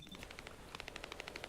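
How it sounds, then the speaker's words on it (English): Rapid bursts of automatic machine gun fire in The First Descendant, a steady rhythmic stream of sharp shots that grows denser and louder partway through, with no talking. "I want to give a machine gun a try."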